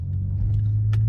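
A 2007 Lexus IS350 on the road during a test run, heard as a steady low rumble of engine and tyres from inside the cabin, with a few faint ticks and rattles on top.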